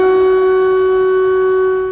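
Air raid siren over Kyiv during a drone attack, a loud, steady sustained wail held at one pitch without a break.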